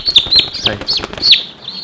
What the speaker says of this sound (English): The Icelandic chicks are doing really well.